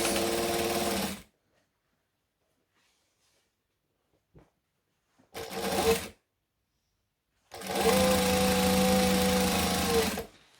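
A sewing machine stitches through the fabric layers of an ironing board cover in three bursts, short, short, then long, each a close, fast mechanical whir separated by near silence.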